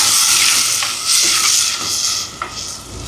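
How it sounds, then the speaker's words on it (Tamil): Tomatoes go into onions sautéing in a pan over a wood-fired stove for Jaffna-style cooking, giving a loud, steady hiss and sizzle with a few brief stirring scrapes, close up and without talk. "இனி வந்து தக்காளி பழத்தை சேர்ப்போம்."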